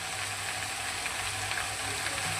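Vegetables fry in a pan for a vegetarian meal, making a steady, close, even sizzle with no talk.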